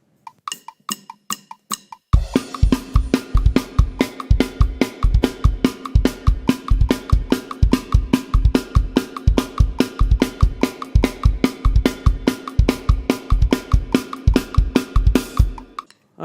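A drum kit plays a fast punk rock beat, a few sparse hits first, then steady driving kick, snare and cymbal hits at a quick even pace, loud and close with no talking.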